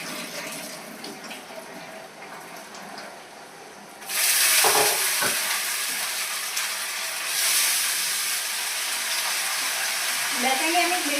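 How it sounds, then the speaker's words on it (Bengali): Betang fish frying in oil with sliced onion and dried chilli, a steady hissing sizzle that jumps sharply louder partway through as the food hits the pan, with a few faint clinks and quiet voices in the background. "তো আসো বন্ধুরা সবাই বেতাং ভাজি"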